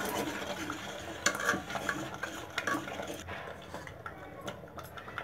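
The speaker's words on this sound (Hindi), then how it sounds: "अब इसमें हम सबसे पहले मक्के का आटा धीरे धीरे डाल के इसको चलाएंगे।" Maize flour being stirred into cooked mustard greens (sarson ka saag) in a pot, with soft close scraping and clinking of a spoon against the vessel, a faint sizzle underneath and no talking.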